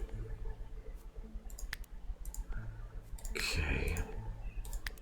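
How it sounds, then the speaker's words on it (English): Sharp computer mouse clicks come in quick pairs while playing the colony-building game Going Medieval, close and crisp over faint background game audio and occasional low voice. "double clicking them gives me a nice little zoom here"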